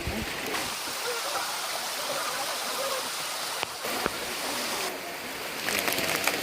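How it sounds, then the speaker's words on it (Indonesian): Rain falls steadily at a mountain campsite, a constant close hiss of drops on surfaces with a few sharp taps and brief shifts in intensity. "Ditemanin hujan."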